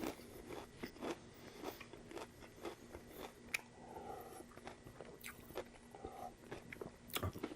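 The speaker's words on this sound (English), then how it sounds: "fortune cookies, the crunch and the subtle sweetness of them" Crunching and chewing on a fortune cookie, a steady run of close, sharp bites and crackles over about seven seconds with no talking.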